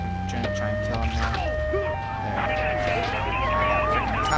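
Ambulance siren wailing in Grand Theft Auto 3, a steady rising and falling electronic tone running throughout, close and loud over dense traffic and engine rumble from the city streets.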